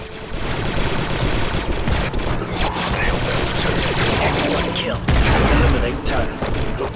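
Heavy, continuous gunfire in Star Wars: Republic Commando, a dense roar of overlapping blaster and turret shots with booming impacts that runs without pause for the whole stretch and swells louder near the end.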